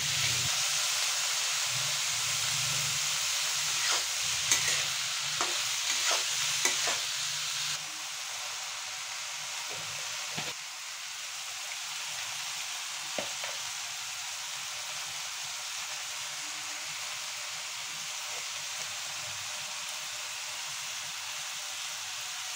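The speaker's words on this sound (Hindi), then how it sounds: "ओ, फ्राई कर लो।" Prawns frying in a pan at a momo stall, a steady close sizzle and hiss throughout, with faint clinks and brief voices in the background.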